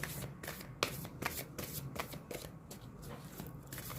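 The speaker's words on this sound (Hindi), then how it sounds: "let me shuffle your cards Libra for the month of August" Tarot cards being shuffled by hand for a reading, a steady, close riffling patter of quick card slaps over several seconds with no talking.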